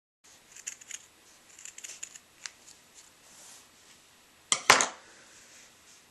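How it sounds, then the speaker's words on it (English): Quiet snipping and rustling from scissors making wavy cuts in felt, in short irregular bursts, followed by a louder crisp cut near the end. "we're going to use our scissors to make wavy cuts all along the outside"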